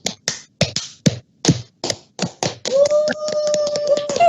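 A group does the Oriflame clapping cheer at a company event in Indonesia, about a dozen sharp, rhythmic claps in a set pattern, then cheering and shouted voices that continue over further claps.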